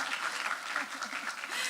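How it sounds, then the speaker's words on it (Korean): An audience at a community talk claps for a project in a short, steady burst of applause. "이 프로젝트를 박수 한번 칠까요?"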